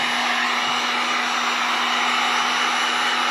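A hair dryer blowing over a patch to dry alcohol on it, a loud, steady whirring roar with a constant tone that runs close and unbroken, with no voices over it.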